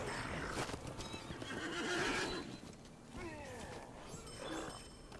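A horse in The Lord of the Rings Online neighs loudly after a rider dismounts, with clip-clopping hooves underneath, then a second shorter whinny, all fairly close.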